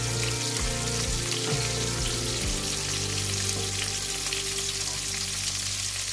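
Whole garlic cloves fry in a pan for salmon belly with ginger, a dense even crackling sizzle with a low steady hum underneath.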